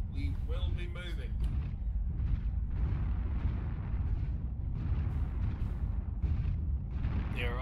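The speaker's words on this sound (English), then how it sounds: "They are also firing on Beta Gate." Weapons fire in a MechWarrior Online match as mechs shoot at a gate, a continuous rumbling barrage of blasts and booms with a voice talking briefly over the start.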